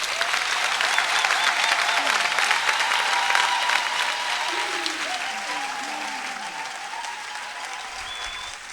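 Steady, dense applause from a large crowd celebrating a parish's fiftieth anniversary, sustained and fairly loud throughout, with faint voices mixed in beneath the clapping.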